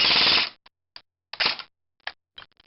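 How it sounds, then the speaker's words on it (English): An airsoft MP5K fitted with a high-speed motor and a 7.4 volt lithium polymer battery opens with a loud, rapid full-auto burst of about half a second, then several short, sharp single shots crack out close by with gaps between them. "here's semi-automatic, here's full auto"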